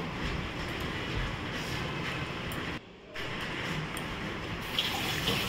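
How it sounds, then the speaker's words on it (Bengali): Tap water runs steadily into a sink while hands are washed after cutting mango, a soft continuous hiss with a short pause midway. "এবার আমি হাত ধুয়ে নিচ্ছি"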